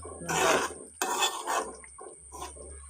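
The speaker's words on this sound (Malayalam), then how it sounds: "ഗരം മസാലപ്പൊടി ഞാൻ ചേർക്കുകയാണ് ചേർത്തിളക്കുക" A spoon stirs garam masala powder into a thickened egg masala curry in a pan, giving a few scraping, rasping strokes against the metal with short pauses between them, close and clear with no talking.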